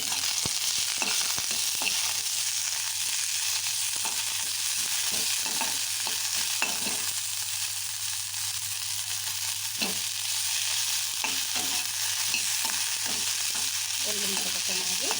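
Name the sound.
garlic, ginger and mint frying in a pan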